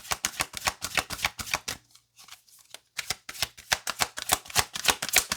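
Tarot cards shuffled in quick, rhythmic riffles, a dense run of crisp flutters broken by a short pause of light handling near the middle, then resuming, close and clear with no voices.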